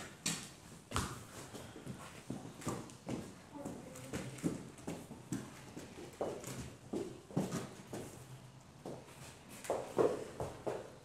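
A quarter horse mare walking on a hard floor in a small indoor space, her hooves clip-clopping in a steady, close rhythm of distinct clops with occasional soft voices in the background.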